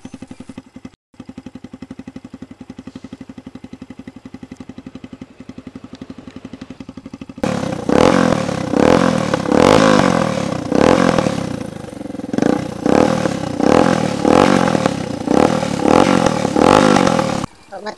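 A motorcycle fitted with a bamboo exhaust pipe idles with a low, even putter, then breaks into a series of loud, rhythmic throttle revs, each rising and falling sharply, close to the microphone.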